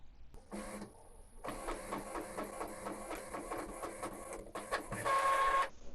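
An Epson EcoTank L3270 inkjet printer runs a print job at close range, with a whirring start, repeated rhythmic mechanical clacks of the carriage and a final higher-pitched feed whir.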